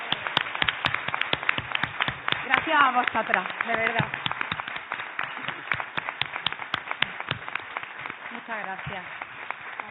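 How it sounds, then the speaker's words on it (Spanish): Scattered hand claps from a small audience of writing-school students at a meeting with an author, sparse and uneven throughout while people speak over them. "creo que se merece un gran aplauso"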